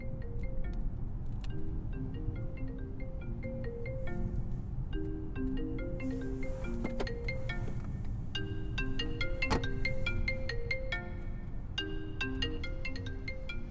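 A mobile phone ringtone, left behind by a driver, plays a repeating bright melody of short tonal notes in a car, moderately quiet and steady, with no talk over it.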